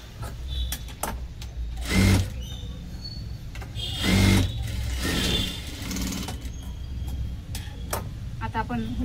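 Sewing machine stitching a hook strip joint on a four-tuck blouse, running in short bursts of rapid mechanical ticking with louder whirring surges, close up, while someone talks over it.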